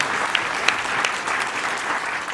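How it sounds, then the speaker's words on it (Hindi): An audience at a Hindi comedy poetry gathering applauds to welcome a poet, a steady moderate burst of many hands clapping with a few sharper claps standing out. "बहुत ज़ोरदार तालियां बजाकर।"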